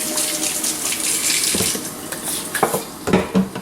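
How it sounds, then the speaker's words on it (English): Running tap water pours steadily into a kitchen sink while hands are washed, with soft splashes and a few light knocks near the end. "so let me wash my hands."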